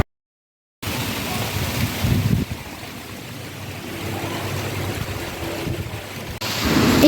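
Rain and cold wind during a thunderstorm make a steady, broad outdoor rush that begins after a short silence, grows gustier near the end and has no speech over it.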